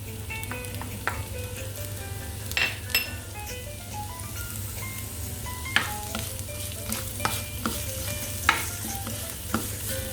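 Carrots sautéing with browned spring onions and garlic in a pan, made for Russian patties: a constant close sizzle broken by clinks and scrapes of a spoon against metal, with no speech.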